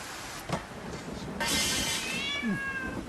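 A cat meows clearly in the foreground, with a rising and falling mew near the end, set against steady low background noise.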